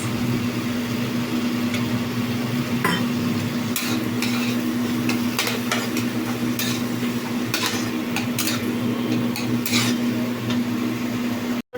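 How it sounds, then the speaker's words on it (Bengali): A cauliflower and potato curry with sugar, turmeric, salt, dates, cashews and raisins is stirred in a pan. Steady scraping and soft clinks continue throughout under a constant kitchen hum and a light sizzle. "চিনিটা দিয়ে ভালো করে নেড়ে নিচ্ছে।"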